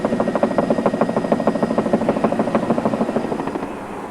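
Steady rhythmic thumping of helicopter rotor blades, loud and close, with a constant engine drone underneath and no voices.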